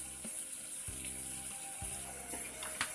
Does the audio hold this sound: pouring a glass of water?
yes